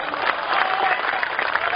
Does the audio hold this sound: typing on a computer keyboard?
no